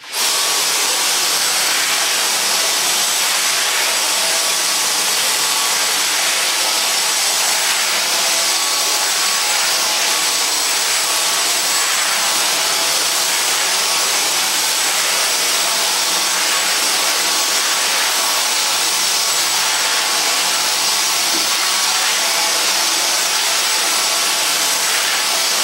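A Dyson DC35 cordless vacuum cleaner picking up debris, a constant loud whirring motor hiss that runs unbroken from start to finish, close by and alone with no voices.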